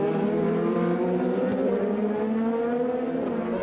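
An IndyCar race car engine at the 2017 St. Petersburg Grand Prix, the number 12 car not sounding right, drones loud and steady with a high, buzzing harmonic whine and slight pitch shifts.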